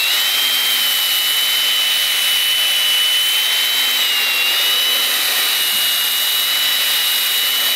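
Steady, even abrasive hiss of a sandpaper pad working over a car headlight lens, continuous and close with a thin high whine running through it and no talking.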